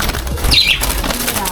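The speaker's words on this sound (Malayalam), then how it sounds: "ഒരുപാട് കിളികളൊക്കെ ഉണ്ട് ഇവിടുന്ന്" A brief, close burst of wings flapping as caged birds in a Thai village stir, a quick fluttering flurry lasting about a second.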